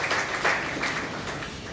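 An audience at the launch of an emergency medical service gives a brief round of applause, a full, even patter of many hands lasting under two seconds with no voices.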